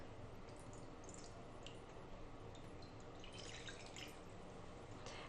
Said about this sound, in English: So what we're going to do first is fill our shallow dish with an inch or two of water.